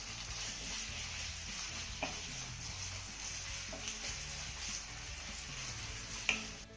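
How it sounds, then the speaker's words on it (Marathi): Sliced onion being sautéed in a pan with ginger and garlic, giving a steady, moderate sizzle and fry with a few soft stirring clicks, no talking. "आता हा कांदा ना चांगला मऊसूत परतून घेऊया."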